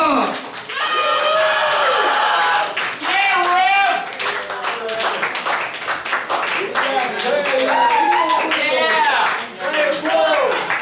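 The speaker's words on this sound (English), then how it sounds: "give them a round of applause" An audience at a religious gathering gives a round of applause, with sustained, dense clapping under loud cheering and singing voices throughout.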